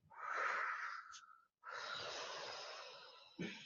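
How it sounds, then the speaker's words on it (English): Deep, slow breaths during a lying-down stretching exercise, a long airy inhale followed after a short pause by an extended exhale, close and fairly loud, with a brief sharp catch of breath at the end. "Inhale and exhale"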